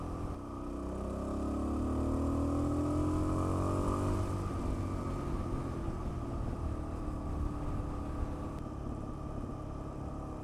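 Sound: Suzuki DRZ-400S motorcycle engine while riding

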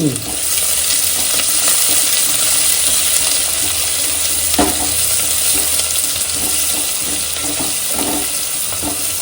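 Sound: onion and spices sizzling while stirred

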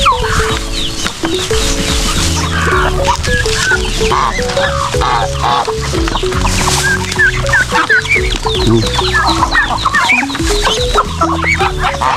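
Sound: chickens clucking

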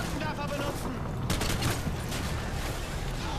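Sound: gunfire from a weapon in the video game Call of Duty Modern Warfare 2

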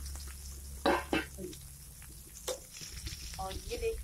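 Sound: potatoes cooking and sizzling in a pan

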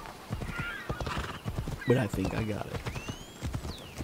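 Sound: horse galloping and neighing, from video game Assassin's Creed Odyssey

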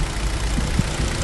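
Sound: car engine idling, all-wheel drive car

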